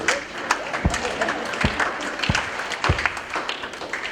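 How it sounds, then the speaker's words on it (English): A comedy-show audience gives a slow clap: loud, evenly spaced claps roughly every 0.7 seconds over a murmuring crowd and scattered applause. "Come on, slow clap."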